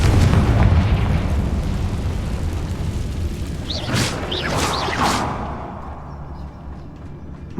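Confringo blasting spell exploding in a wizarding video game: a loud, sustained rumbling blast with whooshing, crackling bursts that fade toward the end, with no talking.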